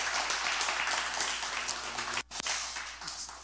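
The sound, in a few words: church congregation applauding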